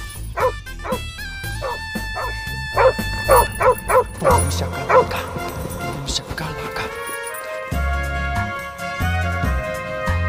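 Small dog barking and yipping in a period costume drama scene, quick bursts of bright barks and whimpers set against a melodic musical score.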